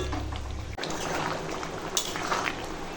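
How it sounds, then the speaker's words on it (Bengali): Chicken curry bubbles and boils hard in a pot, a dense, close, continuous gurgling with a faint clink of utensils, no voices over it. "আর দেখো মাংসটা এখন একদম টকবক করে ফুটছে"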